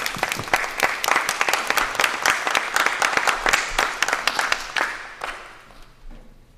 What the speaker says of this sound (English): Group 2, you deserve a round of applause.